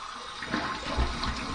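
Tap water running for a cold rinse, a steady hissing splash heard close up for a brief moment with no one talking.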